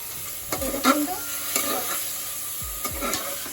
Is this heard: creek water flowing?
no